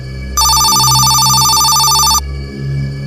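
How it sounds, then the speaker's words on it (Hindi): A mobile phone rings loudly with a bright, repeating electronic tone that starts abruptly and cuts off after about two seconds, over a low droning background in a horror cartoon story. "अचानक मोबाइल फिर बजा।"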